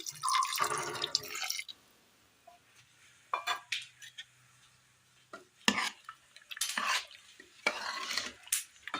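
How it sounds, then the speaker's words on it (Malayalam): First-press coconut milk poured into a reduced Kerala-style curry, heard as short bursts of pouring and splashing with spoon clinks and stirring scrapes between quiet gaps, close and fairly soft. "ഇതിലേക്ക് തേങ്ങയുടെ 1ാം പാല് ഒഴിച്ചു കൊടുക്കാം."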